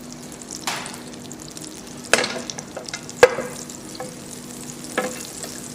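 Butter pieces melt and foam in a pan for sole meunière, a soft steady sizzle punctuated by a few sharp utensil clicks and scrapes against the pan.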